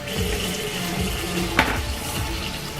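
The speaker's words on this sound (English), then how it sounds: "So I use some warm water to start off." Water runs steadily from a tap into a sink, a continuous close splashing with one brief clunk partway through.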